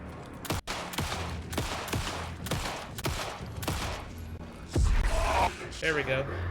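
Gunshots in Alan Wake II ring out as a series of sharp, evenly spaced blasts over game ambience, with a louder impact near the end and a voice speaking between shots.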